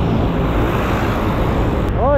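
Steady road traffic noise heard from a motorcycle on a ride from Bulacan toward Antipolo, a constant broadband engine and tire rumble with a brief passing vehicle sweep near the end.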